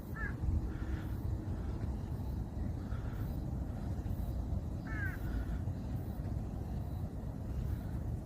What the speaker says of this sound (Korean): 까마귀 쥔장이 반긴다.